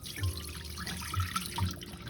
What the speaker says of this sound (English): I just kind of place my hand over the sea moss here and pour it out.